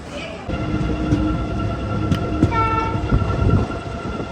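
A passenger train rolls into Ahmedabad's Kalupur station, a loud steady rumble with rail clatter and a tonal horn-like hum layered over the carriage noise.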